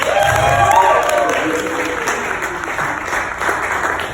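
An audience at a clinic breaks into applause and cheering, a dense, steady wash of clapping with whoops that fades slightly toward the end.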